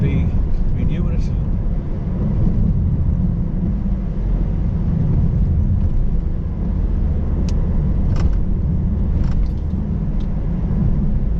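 Steady loud road rumble of heavy traffic seemingly heard from inside a moving car, a continuous low drone with occasional faint clicks and rattles.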